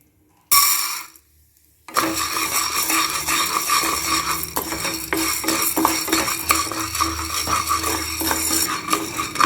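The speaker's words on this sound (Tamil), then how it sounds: "லேசாக பொரியிற வரைக்கும் நம்ம இதை வறுத்துக்கணும்" Sago pearls roasting in ghee in a pan, stirred continuously with a metal spoon that gives a steady run of scraping, clinking strokes close up after a brief silence.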